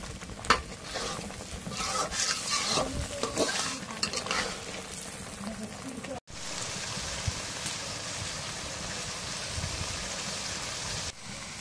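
Spice masala with turmeric, chili powder and salt is stir-fried for chicken curry. Busy scraping stirs over a sizzle for the first half give way to an even, continuous frying hiss.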